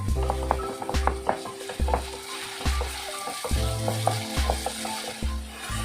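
Onions frying over a medium flame for dal fry, a steady close sizzle broken by regular rhythmic scraping and clinking of a spatula against the pan, about once per second.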